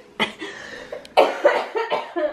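A burst of several harsh coughs, loud and close, coming in quick succession with short gaps between them.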